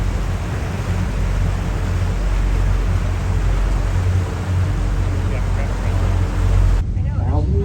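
A boat's steady low engine drone with rushing wind and water noise runs throughout, loud and close, recorded from the back of the boat near Fort Sumter, South Carolina, with voices faintly under it near the end.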